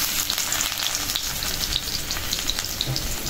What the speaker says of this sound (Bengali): শুকনা মরিচটা একটু ভাজা হয়েছে, দিয়ে দিলাম রসুন,